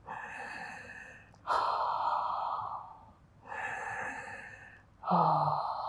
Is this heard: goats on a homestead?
no